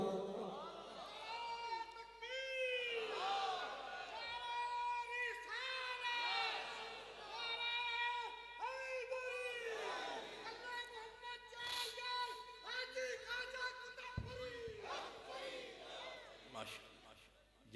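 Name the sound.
crowd raising slogans together at a religious speech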